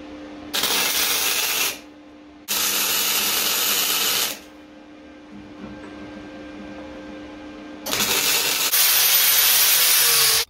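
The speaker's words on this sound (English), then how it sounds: "I cannot believe the difference between the MIG welder I've just bought and the old arc welder I've been using" A new MIG welder welding steel spikes in a workshop, loud steady crackling hiss in three long bursts of a few seconds each, separated by quieter gaps.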